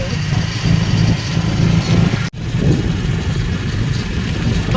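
A motorbike engine hums steadily during a ride along a road past food stalls and scooter-rental booths on Koh Lanta, with a constant low drone and wind noise, loud and close throughout and briefly cut by a sharp break midway.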